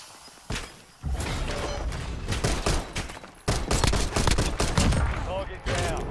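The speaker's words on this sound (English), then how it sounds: "Taking fire!" Rapid bursts of automatic gunfire and scattered single shots crackle through a tactical military shooter, mixed with thuds and footsteps, loud and close in dense volleys with brief gaps.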